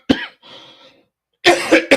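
A single loud, close cough bursts out, followed by softer throat sounds and then a louder double cough, from a podcast host in a quiet room.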